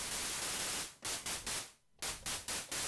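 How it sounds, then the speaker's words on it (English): Bursts of plain white noise from the noise oscillator of a Roland Zenology Pro software synth, played as a series of separate notes: steady hissing bursts that stop and start in a choppy rhythm, heard alone with no voices. "They're pretty much all just the same white noise."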